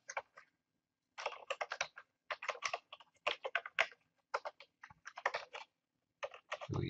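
Fingers type a package name on a computer keyboard in short, quick bursts of clicking keys with brief pauses between, close and clear with no voices.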